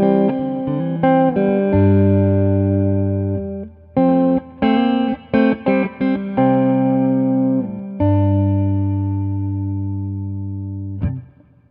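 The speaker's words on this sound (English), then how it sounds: "that's a pretty big reverb" A Moody Blue reverb pedal set to a large reverb colours sustained, chorused guitar chords. Loud, washy notes ring out and fade slowly between strums, then a few quick staccato chords follow.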